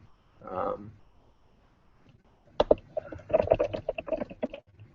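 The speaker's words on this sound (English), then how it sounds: "See, I'm typing right now" Keys clatter on a Chromebook C201 keyboard in a short, uneven burst of close taps after a brief soft rustle, quiet and alone.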